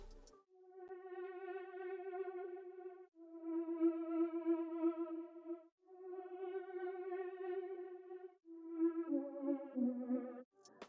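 Chopped synth phrases processed with tape and chorus effects, warbly wobbling pitch and short gaps between sections, slightly dull and textured, playing alone at moderate volume.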